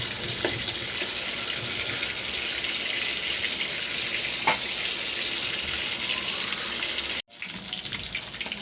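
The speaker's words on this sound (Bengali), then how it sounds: "মাছ ভাজা হয়ে গেছে।" Fish frying in a pan on a gas stove gives off a steady, loud sizzling hiss with no talk, broken by a brief dropout near the end.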